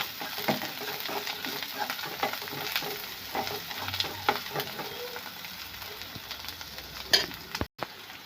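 Chili powder fries in a pan for a masala ivy gourd curry: a quiet, continuous sizzle with soft stirring scrapes and a brief dropout near the end.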